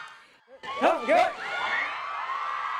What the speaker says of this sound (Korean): 이들의 저녁 신고에 브라질, 프랑스 등 전 세계에서 온 아미가 함성을 쏟아냅니다